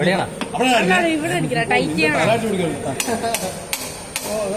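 Metal hammer blows during drilling and fitting work land as a few sharp, separate strikes near the end, under steady close talk from a man.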